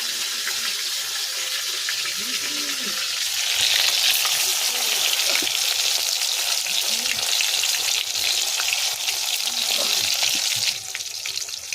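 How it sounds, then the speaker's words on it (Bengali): Prawn chops frying in hot oil give a continuous bright sizzle that swells a little partway through, while a person speaks faintly beneath it. "দেখো চিংড়ির চপটা একটা ভাজা হয়ে গেছে"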